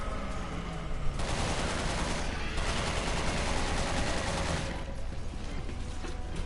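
Dense, sustained gunfire from the video game Resident Evil 6 during an Ada Wong fight, with rapid overlapping shots and bursts that stay loud and continuous throughout.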